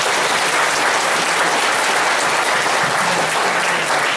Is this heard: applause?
yes